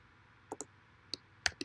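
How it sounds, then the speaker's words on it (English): Scattered clicks of a computer keyboard, five sharp taps in quick uneven bursts, close but quiet against a hushed room, with no speech. "Let me type this in."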